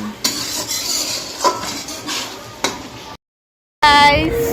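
Clanking pots and scraping utensils while mutton cooks in a home kitchen during Holi, with a run of sharp metallic knocks and stirring noise, a brief silent gap, then louder clattering at the end.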